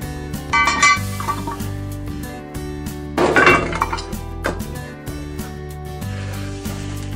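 Metal clanks and clinks as a cast-iron Dutch oven pot and lid are handled at an outdoor cooking setup, with a few sharp knocks and a louder scraping clatter midway over a steady background hum.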